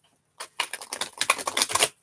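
A deck of playing cards being shuffled, a quick burst of rapid riffling clicks lasting under two seconds, close and alone.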